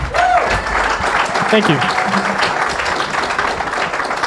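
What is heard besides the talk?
audience applause welcoming moderator on stage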